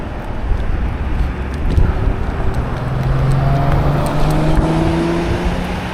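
Kaabo Warrior X Plus dual-motor electric scooter accelerating in first gear outdoors, a rising whine climbing steadily in pitch over heavy wind rumble, continuous and close.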